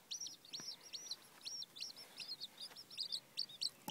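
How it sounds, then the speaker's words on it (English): Hens cluck and chirp in quick, repeated bursts, several birds calling over one another at close range with no voices. "these girls were just so noisy until Jameson popped her head in."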